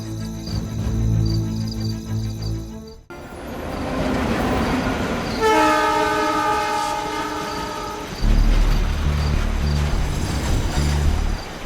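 A train rumbles past with loud clattering wheels, then sounds a long, sustained horn blast before the rolling rail noise carries on.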